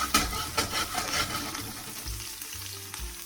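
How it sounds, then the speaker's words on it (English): Onions frying in a pan for vegetable beef soup, giving a steady close sizzle broken by sharp pops and crackles, with a few low thumps of a spoon stirring. "Sizzle, sizzle, pop, pop."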